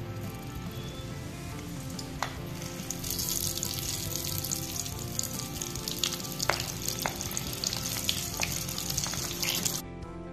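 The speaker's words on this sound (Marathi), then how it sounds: "तेल आता आपलं छान असं गरम झालेलं आहे, त्याच्यामध्ये आपण ह्या ज्या भरलेल्या मिरच्या होत्या ते घालूयात" Stuffed green chillies sizzle loudly in hot oil in a pan, a steady broadband frying hiss that swells after a few seconds, with occasional sharp pops and crackles, close and alone without talk.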